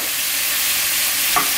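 Shrimp and sugar stirred in a hot pan, a steady loud sizzle with a faint scrape of the utensil near the end, close up and without talk.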